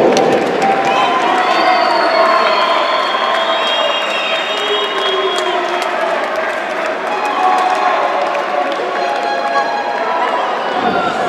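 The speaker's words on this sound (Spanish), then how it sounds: "Ahí está el aplauso y el reconocimiento para estos gladiadores" Crowd at Arena Xalapa applauding and cheering after a lucha libre match, a loud, continuous wash of clapping and shouts that holds steady throughout.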